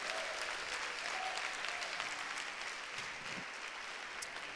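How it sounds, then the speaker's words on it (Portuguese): A church service congregation claps steadily, a dense wash of applause that holds at an even level from start to finish. "Aplauda Jesus, mano."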